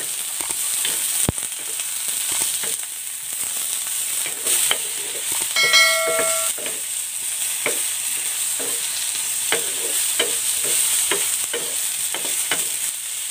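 Lengthwise-sliced eggplant fries in oil in a pan, sizzling steadily up close with occasional scraping and stirring and a few brief metallic taps.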